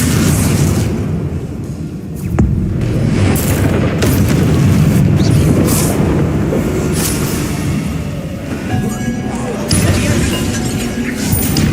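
Bombarda explosion spells in Hogwarts Legacy boom loudly amid ongoing combat rumble, with heavy blasts and crashes layered over a dense, continuous game soundscape.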